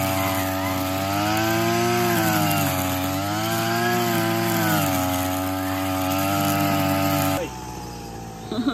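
Brush cutter fitted with a floating hover-style cutting blade, running at a steady high-pitched engine whine with slight rises and falls in speed, loud and close, then cutting off abruptly near the end.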